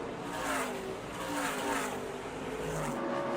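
Race trucks roar around Bristol on the final lap, a dense, continuous engine drone with rising and falling pitch as they pass, fairly distant and blended into crowd ambience.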